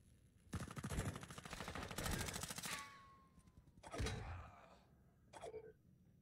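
Bursts of rapid PDSW submachine gun fire in a video game come in two long volleys and then shorter clusters, with sharp clattering reports and no talk.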